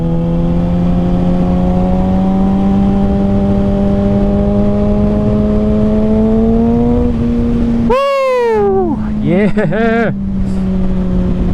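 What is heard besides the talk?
Kawasaki Ninja ZX6R motorcycle riding with M4 Street Slayer exhaust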